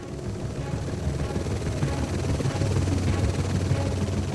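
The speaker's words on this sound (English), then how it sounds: "The helicopter is waiting for Bruce in Revelstoke." Helicopter waiting to fly explosive cargo from Revelstoke: a steady, close rotor and engine drone with a throbbing low chop that swells slightly louder over the few seconds.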